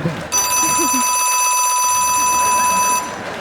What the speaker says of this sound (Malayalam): Second bell.